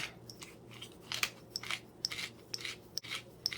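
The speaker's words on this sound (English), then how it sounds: "I always put in a couple of grinds of pepper" A pepper mill grinds peppercorns in a kitchen, giving a quick series of short, crisp crunching twists, close but quiet, with brief pauses between turns.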